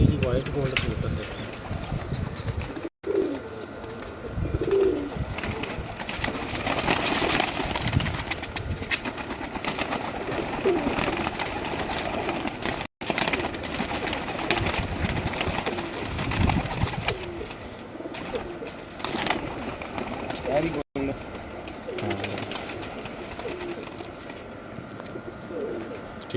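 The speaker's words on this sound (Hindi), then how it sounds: "ये वाइट गोल्ड कबूतर देखें।" Soft cooing from white gold pigeons at a home loft continues under ongoing conversation, with occasional wing flaps and scattered bird calls amid steady ambient noise.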